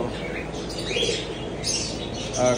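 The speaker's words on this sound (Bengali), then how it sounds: "আপনারা এখানে অনেক কবুতর দেখতে পাচ্ছেন" Pigeons in a bird market shop, with soft chirps and cooing under a steady, busy indoor hum; calls come and go over the few seconds, fairly close, along with a brief flutter near the end.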